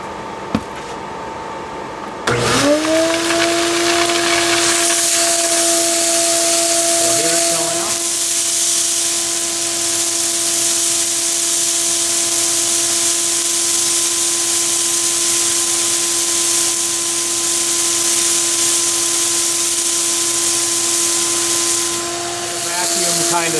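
A homemade coal vacuum system made partly of cardboard starts up with a thump, then runs as a loud, steady whooshing roar with a constant motor whine, close by and unbroken to the end.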